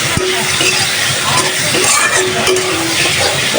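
Eggplant frying in spice masala, stirred with a utensil: a loud constant sizzle overlaid with scraping strokes and occasional metallic clinks against the pan, with no talking.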